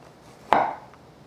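A knife cuts a single slice through loofah, or silk gourd, landing on a cutting board as one short, crisp, close thud-and-crunch in an otherwise quiet kitchen.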